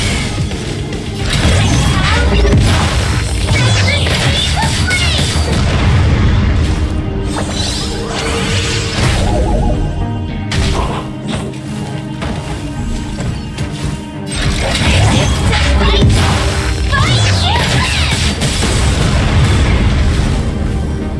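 Heavy sci-fi battle effects from Honkai: Star Rail fire in a dense barrage of booms, crashes and whooshes, loud and nearly continuous with brief lulls between volleys.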